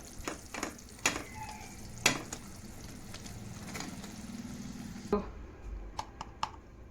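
A spoon stirs sweet puran filling for bobbatlu in a pan, making a soft low sizzle with sporadic sharp scrapes and taps against the pan that end in a few light clinks.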